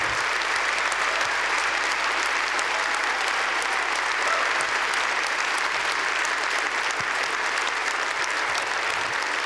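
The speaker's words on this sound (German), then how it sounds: "Die Stage-Tanzschule St. Wendel, das ist euer Applaus." An audience at a New Year's reception in St. Wendel applauds a dance school performance, with steady, dense clapping that continues evenly throughout at a moderate level.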